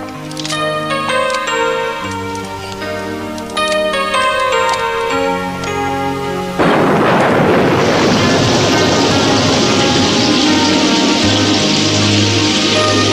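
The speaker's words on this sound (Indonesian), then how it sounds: "hujannya deras, masuklah" Heavy rain in a dubbed gambling-film scene: after a stretch of music, a dense, loud, steady downpour hiss takes over abruptly and continues to the end, with no speech.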